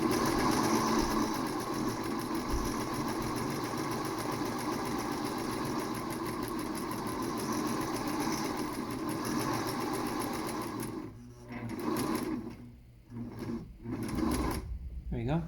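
A sewing machine stitching fabric for a DIY pouch rope dart: a close, fast, steady mechanical whir for about eleven seconds, then a few short stop-start bursts of stitching.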